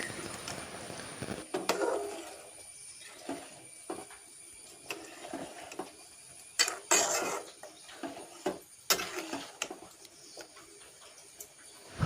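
A spoon stirs a pot of prasada with sugarcane pieces, making intermittent scraping clinks and knocks against the metal. The sounds come in irregular bursts with pauses between them, close by, and no one talks.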